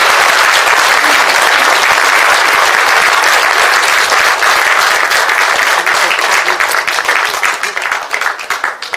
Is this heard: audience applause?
yes